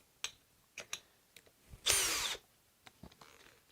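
A Makita hammer drill bores into wood in one loud half-second burst, set among several short, sharp clicks and knocks.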